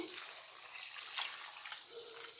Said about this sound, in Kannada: ಹಾಗೆ ಈಗ ನೀರು ಹಾಕ್ತಿದ್ದೀನಿ